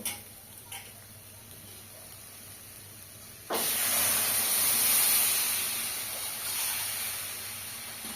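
Water poured into a hot pan of fried long beans and potatoes bursts into a loud, sustained steam hiss that swells and slowly settles, following a quieter stretch of faint frying crackle.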